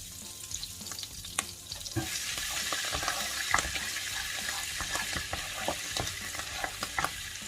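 Garlic fries in a pan for honey butter chicken wings with a bright, constant sizzle. Scraping stirs and light clinks sound close by over the crackle.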